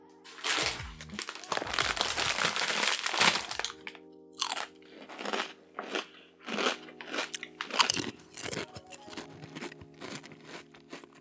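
Himalayan salt and vinegar chips crunch loudly and close, with crinkling bag noise and bursts of biting, then repeated rhythmic chewing crunches.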